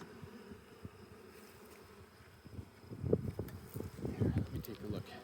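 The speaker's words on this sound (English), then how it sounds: "Sorry, bees." Bees buzzing near and far, a low droning hum that swells louder in the second half with busy overlapping wingbeats.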